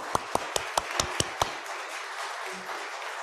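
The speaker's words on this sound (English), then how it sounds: "Big round of applause" A handful of people clap briefly in a church during an Easter morning service, seven crisp claps in quick succession that stop after a second and a half, leaving quiet room tone.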